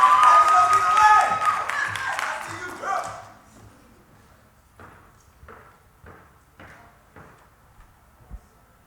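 Audience at a student government debate clapping for class president candidates, a loud burst of applause for about three seconds that fades quickly, followed by a few scattered light taps and knocks in a quiet room.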